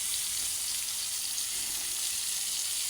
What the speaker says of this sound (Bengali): এখন আসলে এগুলা বড়া ভাজি